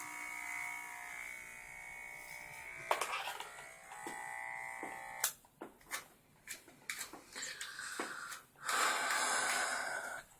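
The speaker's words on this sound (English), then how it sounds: "I probably just need to learn how to use a trimmer." An electric hair trimmer buzzes close by in steady bursts that stop and restart as it works through hair, with breathy sniffs and gasps in between.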